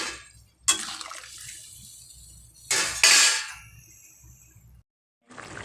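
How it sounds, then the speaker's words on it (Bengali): Water poured into a pot of vegetables for Bengali dudh sukto comes in three short, splashy, close bursts separated by quiet pauses, with no talking. "এবার এতে জল ঢেলে এগুলো সেদ্ধ হতে দেবো।"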